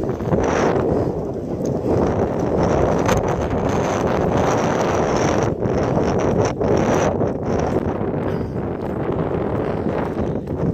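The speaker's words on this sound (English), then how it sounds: "A little foggy here and windy." Steady gusty wind buffeting the microphone on a foggy mountain trail, a constant loud roar with brief dips, no voices.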